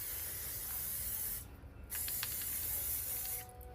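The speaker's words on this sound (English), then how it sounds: "And I'm gonna spray some hairspray." Hairspray misted onto hair from an aerosol can, two steady hissing bursts close to the mic separated by a short pause.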